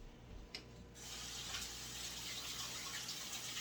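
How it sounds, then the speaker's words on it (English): A kitchen tap runs steadily while hands are washed, a soft continuous rush of water that starts after a second and holds at low level. "I'm going to wash this off my hand."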